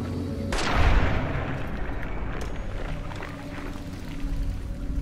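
Gunfire in the video game Fallout New Vegas during a fight at Jacobstown: one sharp booming shot followed by a rumbling tail and lighter distant pops over a steady background hum.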